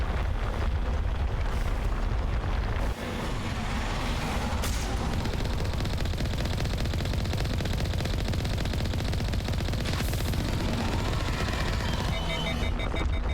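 A weapon in Mass Effect fires in a long, continuous roaring stream, dense and loud, with a brief dip early on, sustained until it overheats and cuts to lighter clicks and tones at the end.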